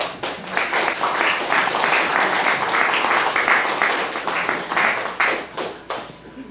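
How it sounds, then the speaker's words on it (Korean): A church congregation claps steadily for several seconds during a Sunday worship service, the applause thinning toward the end. "다시 한번 박수로 환영해 주십시오."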